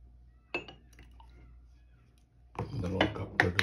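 Cups and spoons clink faintly while payasam is served and stirred, first a single chink, then a busier run of clinks and scraping near the end.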